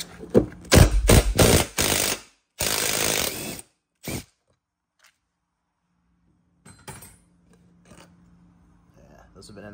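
A power drill loosening old bolts on the seat back of a Club Car DS golf cart body, several short bursts of whirring and rattling up close, then quiet with faint movement.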